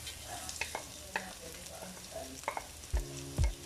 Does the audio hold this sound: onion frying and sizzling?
yes